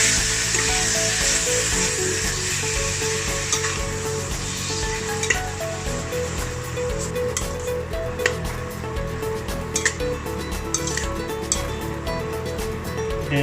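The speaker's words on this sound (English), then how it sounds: "mix it well with the sauteed onions and garlic in order for the flavor to sink in to the pork" Pork sautés with onions and garlic in a pan with a continuous loud sizzle, broken by occasional clicks and scrapes of stirring close by.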